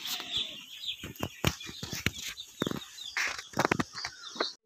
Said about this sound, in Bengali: আমাদের ফার্মের মুরগিগুলো দেখে নিই।